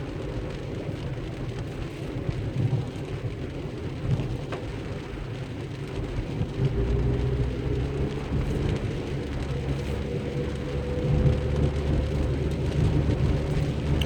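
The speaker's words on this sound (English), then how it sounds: "If you just like stop and listen, you just hear trucks. Highway noise." Constant roar of highway traffic with heavy trucks passing, a steady low rumble that swells and fades slightly throughout, heard alone without speech.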